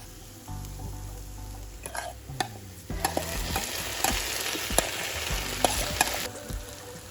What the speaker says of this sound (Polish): teraz wrzucę wszystko na patelnię